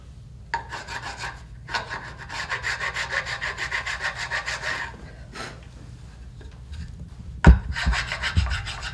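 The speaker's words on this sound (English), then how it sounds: "Scratch it up a little bit, and I'm going to get down and into the wood" Wood being scratched and distressed for a crafted, damaged look gives off close, rhythmic rasping strokes in several bursts, ending with a sharp knock and more scraping.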